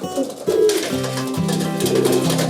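Pigeons coo close by in a loft of young male racing pigeons. Several deep, rolling coos repeat one after another with no talk.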